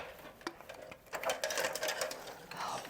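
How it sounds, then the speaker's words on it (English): Lock nuts being tightened on threads while a 3-phase electrical panel is mounted, a close rapid metallic ratcheting whir that builds up in spurts and then runs steadily, with no talking. "this is just me tightening the lock nuts so that way I can get the panel fully up on the threads"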